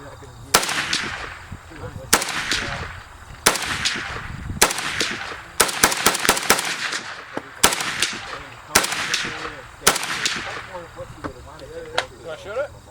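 Romanian WASR 10/63 AK-47 rifle firing outdoors, a series of sharp, loud gunshots in irregular bursts of single and quick double shots, each with a short ringing tail, while people talk between them.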